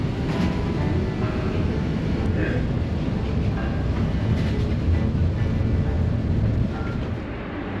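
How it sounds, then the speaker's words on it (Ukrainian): Steady low rumble and rattle from inside a moving tram in Belgrade, Serbia, continuous and fairly loud throughout, with no one speaking. "Тепер я їду зайчиком в сербському трамвайчику."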